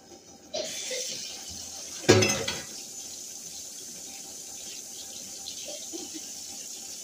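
Tap water runs into a kitchen sink while cooking utensils are washed, a sudden gush and splash followed by a quieter steady flow.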